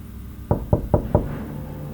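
Four firm knocks on a door by police, evenly spaced and close, followed by a quiet room tone with no voices.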